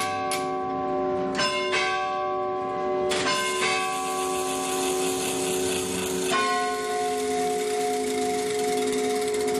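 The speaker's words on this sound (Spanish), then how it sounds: "Esta cuerda que estoy dando es para que suene cada hora, que son las repeticiones del reloj." A mechanical clock strikes the hour with a run of ringing, bell-like chimes, several near strikes early on, then overlapping tones that hang and slowly decay, with no voices.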